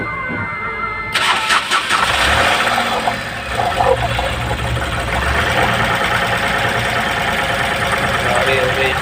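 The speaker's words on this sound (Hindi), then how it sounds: "गाड़ी हो गई स्टार्ट" An Ashok Leyland Dost engine cranks and starts, then settles into a loud, steady diesel idle with a rough, knocking rhythm; a voice speaks briefly near the start.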